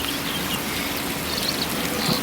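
Rain falls steadily on an apple farm in Uganda, a soft broadband hiss of drops on leaves and ground with faint bird calls in the distance and no voices.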